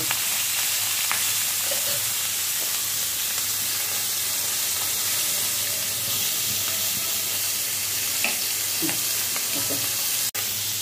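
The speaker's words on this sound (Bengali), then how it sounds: "মাছটি একটু কড়া করে ভেজে নিব আর কি।" Fish frying crisp in a pan of oil, with a steady close sizzle and hiss and occasional stirring clinks, ending with one sharp knock.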